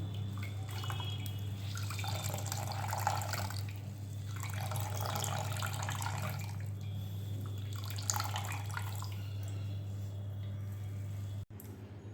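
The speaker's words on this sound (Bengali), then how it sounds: "এই জলটাকে বাদ দিয়ে দিতে হবে" Water drains and drips from cut raw mango during kasundi preparation, a soft trickle that swells and fades in waves over a steady low hum.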